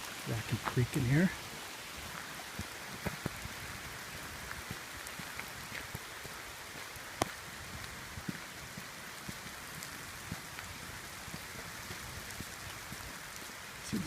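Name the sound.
rain falling on a trail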